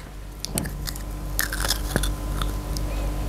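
A child bites and crunches a snack up close, with several crisp cracking bites and wet chewing over a low steady hum.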